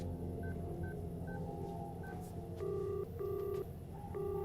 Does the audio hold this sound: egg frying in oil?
no